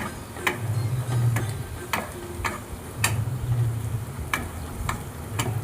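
Onions frying in a pan for chicken curry give a steady close sizzle, broken by regular sharp ticks as the spatula scrapes and stirs roughly every half second.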